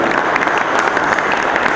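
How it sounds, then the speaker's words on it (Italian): An audience at a Christmas concert by a music academy in Avellino claps loudly and continuously, a thick, even burst of applause filling the short moment without any voices. "Facciamo di nuovo un applauso a tutti,"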